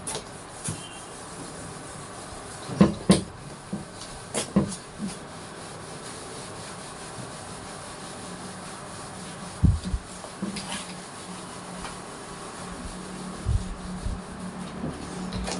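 Scattered rubbing and wiping strokes as writing is erased from a board, a few louder swipes standing out against a quiet room background.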